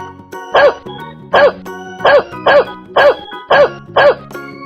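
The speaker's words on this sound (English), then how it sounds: "Dog." A dog barks seven times in a steady, evenly spaced rhythm, each bark loud and close, with a faint jingle in the background and no talk.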